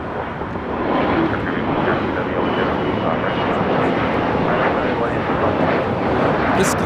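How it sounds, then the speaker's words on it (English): A Bombardier Global 6000 business jet roars loudly and steadily at LAX as it takes off, a broad sustained engine rumble filling the scene for several seconds with a voice talking over it. "This Global 6000 is taking off to Orlando, Florida"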